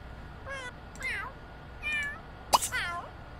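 Several short cat meows from a pet in The Sims 3 life-simulation game, four separate rising-falling calls spaced across a few seconds over a faint steady background hum.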